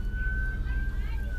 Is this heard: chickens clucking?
no